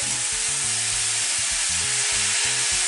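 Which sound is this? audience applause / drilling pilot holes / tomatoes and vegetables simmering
tomatoes and vegetables simmering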